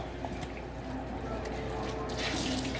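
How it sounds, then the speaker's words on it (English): Bleach water pours into a kitchen sink with a steady, quiet splashing rush of liquid from start to finish, close by. "I'm going to pour this water in my sink"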